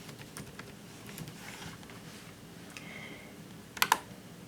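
A computer keyboard clatters with quick, light keystrokes as a short folder name is typed, ending in two louder clicks close to the microphone.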